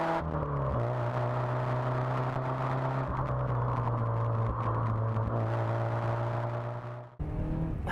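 Small Porsche engine straining under acceleration while driving, a steady droning hum with rising pitch heard from inside the car, ending abruptly with a brief drop.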